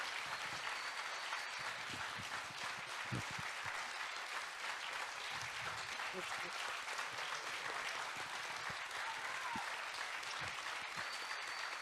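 Audience applause at a youth council event in the Allier, France, a dense, steady clapping from a crowd that fills the whole stretch evenly without a break.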